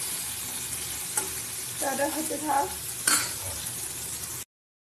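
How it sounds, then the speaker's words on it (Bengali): Steady sizzling of bitter gourd frying in a pan, with a spatula stirring and clinking against metal; a person speaks briefly over it. "উচ্ছেগুলো ভাজা ভাজা করে ডালের মধ্যে দেবে"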